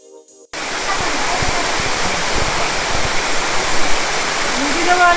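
Tungtong Falls in Tanay, Rizal roars as a steady, loud, dense rush of falling water after a brief quieter start, continuous and close.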